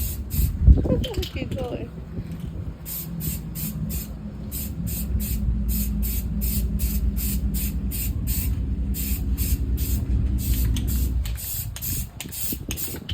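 Spray paint hisses from an aerosol can onto an AR-15 rifle in bursts of repeated short sprays, close and fairly loud, while someone speaks briefly at the start.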